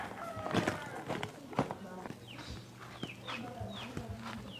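A chicken clucks in short, repeated bursts amid outdoor clatter, footsteps and people talking nearby.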